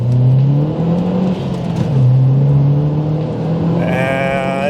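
Stage 1 MazdaSpeed 3 pulling hard from 30 to 70 mph, a loud close engine note climbing steadily in pitch through the gears with brief dips at shifts, ending in a sharper whine.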